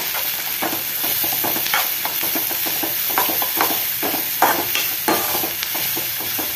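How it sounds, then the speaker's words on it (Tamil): Onions fry in a pan with salt while a spatula scrapes and stirs in repeated strokes over a constant close sizzle, no voices. "வெங்காயத்தை நல்லா வதக்கிக்கலாம்."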